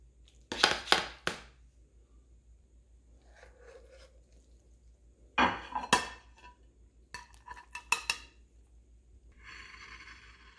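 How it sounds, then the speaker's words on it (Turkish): Knife and spatula clinking against a pan while baked lasagna is sliced, with a few sharp scraping bursts and clatters separated by quiet gaps, close and fairly clear. "Lazanyamızı dilimlemeye başlıyorum."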